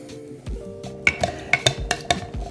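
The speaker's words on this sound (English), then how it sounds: "keep occasionally stirring it. I use this AeroPress stirrer" A plastic AeroPress stirrer swirls cascara coffee brew in a vessel, giving a quick series of close, sharp clinks and taps in an irregular rhythm, loud and alone.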